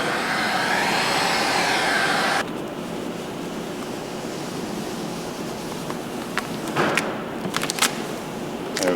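Heat gun blowing hot air over car wrap vinyl on a BMW i8 quarter panel: a loud, steady rushing whoosh that suddenly drops to a softer airflow, with faint clicks and handling noises near the end.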